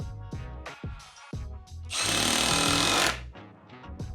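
A Milwaukee M18 Surge hydraulic impact driver runs at speed 2, loud and close: short whirring bursts, then a sustained rapid hammering rattle for about a second before it winds down and spins briefly again.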